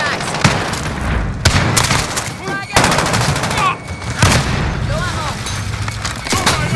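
A frag grenade and heavy gunfire blast in a Call of Duty: Modern Warfare match, sharp booms and rattling shots recurring through the scene beneath game music and chatter.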